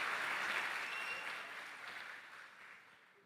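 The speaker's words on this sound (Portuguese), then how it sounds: "Vamos aplaudir, Jesus." A church congregation at an evening service applauds in a fairly faint, dense wash of clapping that slowly fades away.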